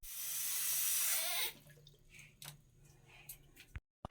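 Water runs from a tap into a container for about a second and a half, a loud close rush that stops abruptly, followed by faint drips and handling noises.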